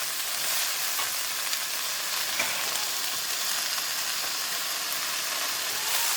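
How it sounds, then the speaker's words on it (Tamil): Fenugreek leaves sauté in hot oil in a pan, giving a steady, close, fairly loud frying sizzle that keeps going without a break and with no voices. "கீரையை நல்லா வதங்கணும் இந்த எண்ணெயிலையும் நல்லா வதக்கிட்டு"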